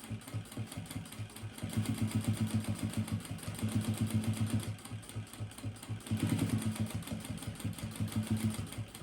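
Close, quiet sewing machine stitching a makeup bag: a rapid, even mechanical chatter in stretches of a few seconds, separated by brief slowdowns where the fabric is repositioned, with no talking.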